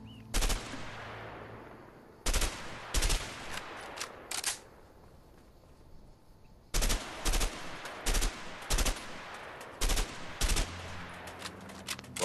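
Gunfire in the video game A Way Out, fired at a run-down practice spot: sharp, loud single shots and quick bursts in irregular clusters, separated by quieter gaps, with no talk over them.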